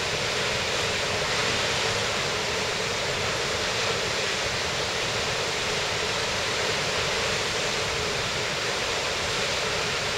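Mae Surin waterfall, the tallest in northern Thailand, roars in a loud, continuous broadband rush that stays even throughout, with no talking.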